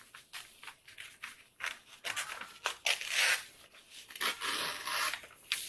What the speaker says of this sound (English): So I'm just going to cut my pattern here.